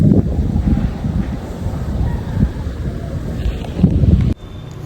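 Wind gusts through a rice field in Bunawan, buffeting the microphone with loud, uneven rumbling bursts before the sound cuts off abruptly near the end.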